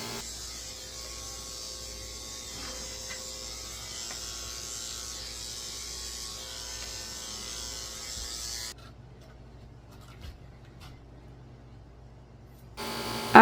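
Electric dog clippers with a 7 blade buzz steadily while trimming a senior dog's ears, a close, low-level whir that cuts out near the end before a brief clatter.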